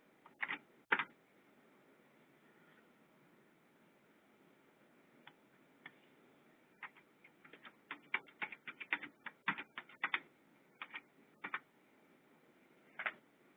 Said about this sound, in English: I will, however, type in my correct password.